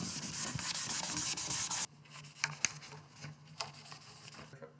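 A cloth wipes across an acoustic guitar body during cleaning, giving a close, soft rubbing swish that is steady at first, then thins into quieter intermittent strokes and light taps.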